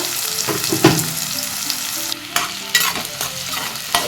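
Three finely chopped onions sauté in plenty of oil with fennel seeds for egg kulambu, a strong close sizzle broken by scraping stirs of the spoon against the pan, with no one speaking.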